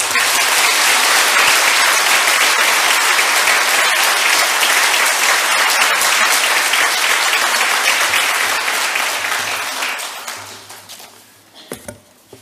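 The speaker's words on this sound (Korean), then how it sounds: "너무 수고하신 우리 장로님께 감사하는 마음을 박수로 환영하겠습니다" A church congregation applauds together in a steady, loud wash of clapping that holds for about ten seconds, then thins out and fades to a few scattered claps at the end.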